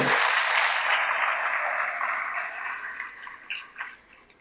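A festival audience at a Gujarati literary event in Bhavnagar applauds a poet, loud dense clapping at the start that gradually thins and fades out, with a few scattered claps near the end.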